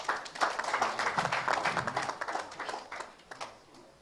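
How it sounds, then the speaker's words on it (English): Audience applause at the inauguration of a joint task force for the 10th Assembly, a dense patter of many clapping hands that swells and eases over a few seconds, moderately close, with no talk over it. "A more resounding applause, please."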